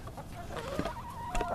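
A White Leghorn chicken clucks softly in short, intermittent calls at close range over a quiet background, with no talking.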